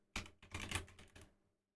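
Someone types on a computer keyboard in a short close burst of quick clattering keystrokes, which then stops into silence.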